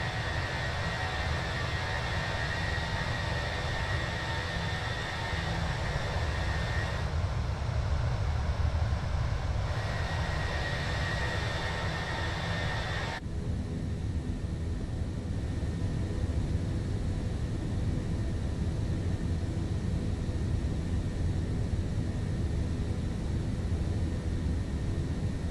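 An airliner's engines roar steadily during a long takeoff roll into a headwind in a flight simulator, a loud continuous broadband rumble and hiss that drops slightly in brightness partway through, with no talking.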